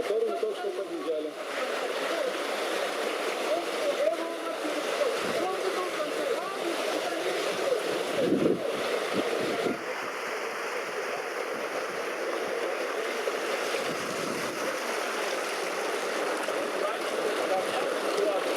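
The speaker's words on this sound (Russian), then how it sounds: "И вот ручей пошел дальше." A mountain stream rushes steadily through a gorge in Turkmenistan, a continuous broadband wash of flowing water heard close for the whole stretch, with muffled, indistinct voices now and then underneath.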